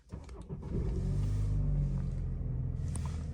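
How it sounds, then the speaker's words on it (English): A BMW 330i four-cylinder with a Stage 1 tune starts up after a brief crank and settles into a loud, close, steady idle rumble. "So let's turn on the car and make sure."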